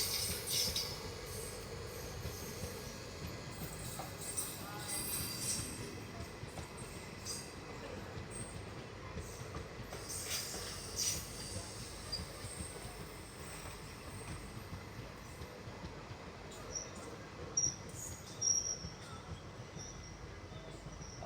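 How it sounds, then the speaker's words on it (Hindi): The Aurangabad–Guntur Express rolls along at a distance with a low rumble and rhythmic wheel clatter, and faint squeals and clicks come through now and then. "औरंगाबाद गुंटूर एक्सप्रेस।"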